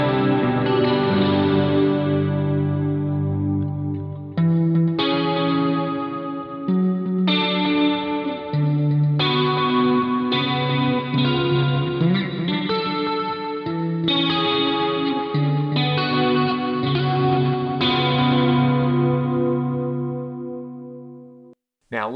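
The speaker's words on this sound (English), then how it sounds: "I could run another delay into this master delay and I could add some hall reverb in there" Sustained electric guitar chords through a BOSS SY-1000 with delay and hall reverb ring out one after another, each washing into long echoing repeats and a spacious, lingering reverb tail.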